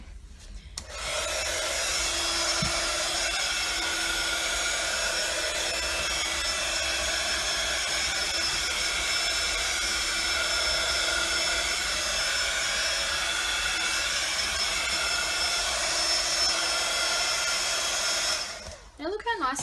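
A heat tool blows steadily over sprayed Distress Oxide ink on a stencilled craft surface, a loud continuous whooshing drone that starts abruptly, holds for about seventeen seconds and cuts off, with no talk.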